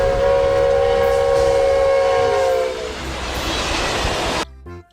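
A toy high-speed train blares a loud, steady horn for about three seconds, then rolls on with a rushing rumble before cutting off abruptly.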